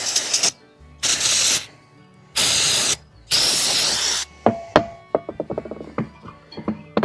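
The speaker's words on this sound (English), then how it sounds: "Probably gonna spray that out" Four long bursts of aerosol spray hiss in a row, each about a second, blowing out shavings, followed by light clattering and tapping of small objects.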